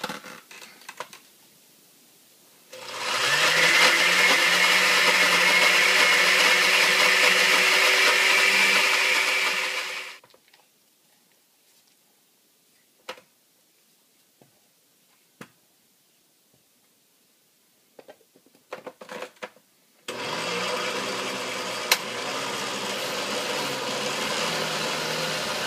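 A countertop blender grinds oats into flour in two loud, steady bursts, the first running about seven seconds and the second starting after a pause filled with a few faint knocks and taps.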